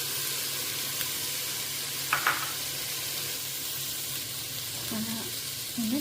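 Cabbage leaves frying with spices such as turmeric and pepper in a pan for a rice dish: a steady broadband sizzle throughout, with a few brief stirring clinks and scrapes over it.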